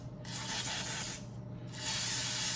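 WD-40 sprays in two short hissing bursts onto a Triumph TR6 engine block cylinder during a rebuild, close and crisp with a brief pause between, no speech.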